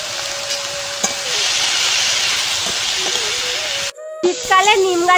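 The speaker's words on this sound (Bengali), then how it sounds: "কেটে রাখা আলু আর বেগুন দিয়ে দিই। বেগুনের মধ্যে লবণ আর হলুদ দিয়ে ঢাকা দিয়ে দিয়ে ভেজে নেব।" Potatoes and eggplant with salt and turmeric frying in a pan for a Bengali fish curry, a loud continuous hiss of oil that cuts off abruptly near the end, where a voice starts speaking.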